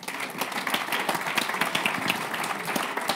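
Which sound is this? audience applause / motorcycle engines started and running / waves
audience applause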